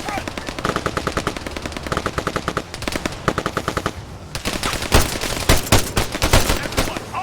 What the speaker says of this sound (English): Martinez, engage that machine gunner!